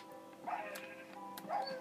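A dog in the video game Minecraft gives two faint, brief yipping barks about a second apart over a quiet background.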